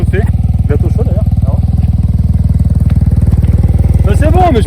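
A Yamaha TMAX scooter engine idles while warming up, a loud, close, steady low pulsing throb throughout, with people talking over it.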